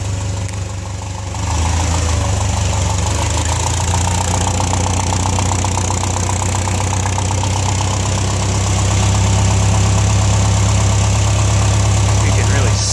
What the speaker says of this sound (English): little exhaust leak.